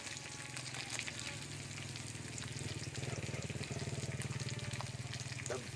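Field rat stir-roasts with kaffir lime leaves in a wok, giving a steady close sizzle with rhythmic scraping and stirring that grows busier partway through.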